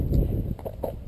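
Howie, a cob out on a hack, pushes through dense bushes, with a low brushing drag followed by a few close hoof clops, moderately loud, with no talking over it.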